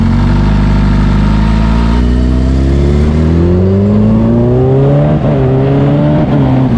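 Kawasaki Ninja H2 motorcycle accelerating hard through the gears, a loud, close engine roar that climbs steadily in pitch, with a brief dip at each shift before rising again.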